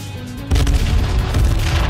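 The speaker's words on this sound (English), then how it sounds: "Oh, fireworks." A sudden loud boom of game explosions erupts after a quiet moment, followed by sustained crackling blasts like a fireworks burst.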